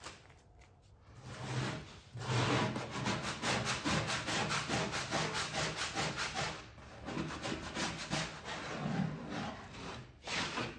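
Stripped paint being scraped off a Sinistar arcade cabinet during restoration, a fast run of rough, rhythmic rasping strokes, close and fairly loud, pausing briefly near the start and end.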